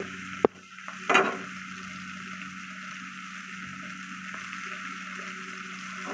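Onions with a pinch of salt frying in a pan, a faint, steady low hiss after two sharp utensil clinks near the start.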